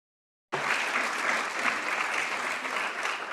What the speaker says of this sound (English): as you can hear from the rounds of applause here